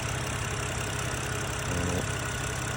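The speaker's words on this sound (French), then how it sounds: "Le moteur qui tourne parfaitement." A BMW 125i E88 with the N52B30 engine idles smoothly at close range, a steady low hum that holds even throughout.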